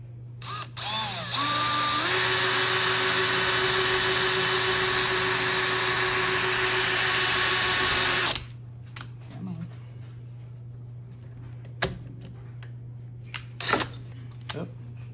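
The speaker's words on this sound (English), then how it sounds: "Don't want to drill it in too far, but again it just fits in there just like that." A power drill drives a screw into a wall in one long, steady whine lasting several seconds, followed by quieter clicks and handling sounds over a constant low hum.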